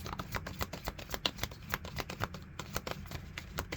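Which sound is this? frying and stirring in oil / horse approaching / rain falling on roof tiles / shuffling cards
shuffling cards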